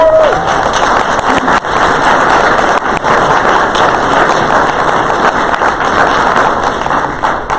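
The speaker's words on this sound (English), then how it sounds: "Give him a round of applause." Audience at an Army leadership panel giving a round of applause for a speaker: loud, dense, continuous crowd clapping and noise filling the whole stretch, with a brief voice at the very start.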